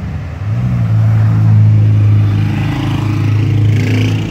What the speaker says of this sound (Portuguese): É muito carro que passa aqui.